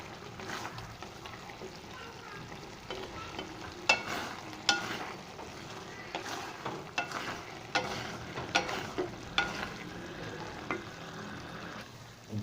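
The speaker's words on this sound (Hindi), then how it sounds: "इसको मैं अच्छे से भूनूंगा। इस तरह भूनूंगा कि नीचे लगे ना, बिल्कुल चम्मच मसलसल मैं हिलाते जा रहा हूँ।" Chopped zucchini in ghee sizzles softly in a pan while a spoon stirs it continuously, scraping in an irregular rhythm of clinks and scrapes over the steady frying hiss.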